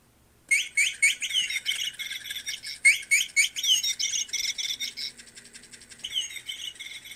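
A battery-powered chirping toy bird meant for cats gives off rapid, high, electronic tweets in bursts after a short silence, fairly close and loud, with a brief pause before the chirping resumes, no voices.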